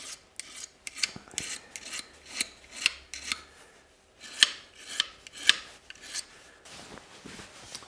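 A woodturning gouge being sharpened with the diamond file on a Leatherman Wave multitool, a series of close, crisp rasping strokes in an uneven rhythm, each a short scraping burst.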